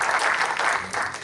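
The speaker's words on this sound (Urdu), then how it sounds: "ارشد رشید صاحب کے لیے بہت زوردار تالیاں" Dense, steady applause from a seated audience at an Urdu literary tribute gathering for the poet Jaun Elia, loud and continuous for the whole moment with no voice over it.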